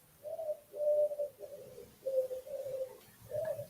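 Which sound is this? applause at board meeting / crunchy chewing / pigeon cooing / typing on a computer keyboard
pigeon cooing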